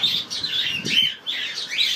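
Pet Java sparrows chirping at feeding time, a run of high, bright, rapid tweets close by, repeated in quick bursts with no talking.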